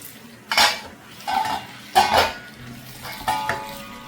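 A spoon scrapes and knocks against a pan while tomato rice is stirred, four short separate bursts of clatter over a quiet background.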